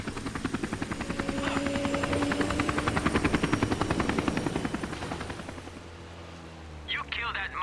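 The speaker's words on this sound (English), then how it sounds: "This is Chamin Su's chopper." In the video game Army of Two, a helicopter flies nearby with a rhythmic thumping of rotor blades that swells, holds steady, then fades, and a voice cuts in at the end.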